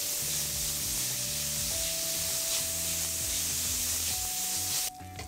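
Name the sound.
beef bacon sizzling in a pan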